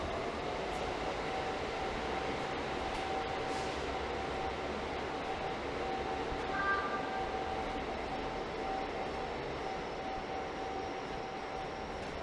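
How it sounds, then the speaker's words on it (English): A low, steady rumble of a GO Transit train rolling past at a distance near Toronto, with a faint high tone running through it and no voices. "there goes the train"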